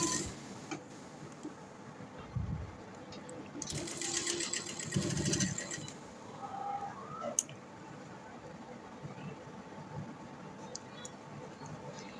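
A sewing machine stitches a piping strip onto a round V-neck garment. It runs in a clear rattling burst partway through, with scattered clicks and ticks before and after and a quiet background otherwise.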